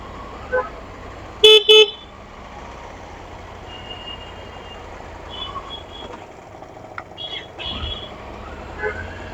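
Heavy night road traffic in South India, with a steady rumble of cars and trucks and several short, sharp horn toots, most prominently a close double honk early on, plus scattered fainter horns and voices.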